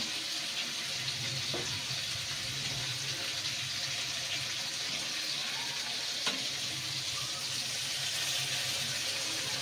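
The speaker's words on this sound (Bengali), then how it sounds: "থালাটা ধুয়ে জল দিয়ে দেবো" Tap water runs steadily as a plate is washed in a kitchen, a continuous hissing stream with faint clinks.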